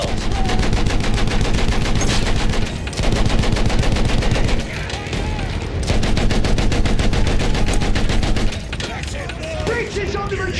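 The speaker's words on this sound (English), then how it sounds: "Continue suppressing fire!" Intense gunfire and machine gun fire in Battlefield 1, with continuous rapid automatic bursts and overlapping rifle shots filling the whole stretch, loud and close, with soldiers shouting amid the battle.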